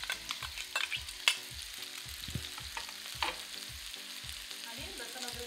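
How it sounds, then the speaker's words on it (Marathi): Chopped onion frying in a pan sizzles steadily while a spoon stirs and scrapes it in a regular rhythm, close and fairly quiet, with no one speaking. "कांदा छान फ्राय करून घ्यायचा, म्हणजे आता पूर्ण कच्चेपणा आपला जाऊ द्यायचा कांद्याचा"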